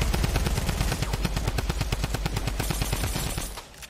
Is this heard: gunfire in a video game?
yes